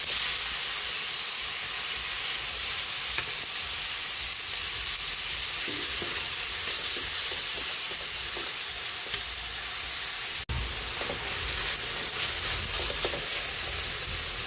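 Onions and tomatoes sauté in a pan with a steady, close sizzle and hiss, soft stirring scrapes throughout and one sharp knock partway through.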